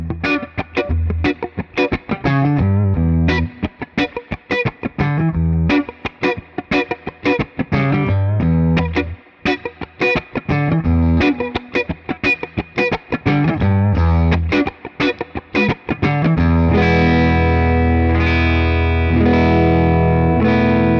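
An electric guitar on its neck pickup plays through a Tone King amp's clean rhythm channel: choppy rhythmic strums with short gaps, then sustained ringing chords toward the end, close and fairly loud.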